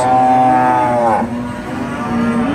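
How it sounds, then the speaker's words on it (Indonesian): A Limousin cow at an animal market moos loudly and close, one long call that drops in pitch and trails into a second, lower moo. "Jenis sapi limosin seharga 33 juta."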